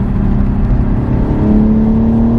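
A BMW M4 G82 with a six-speed manual revs hard, a loud, close, steady engine drone whose pitch climbs toward the end, with no talking over it.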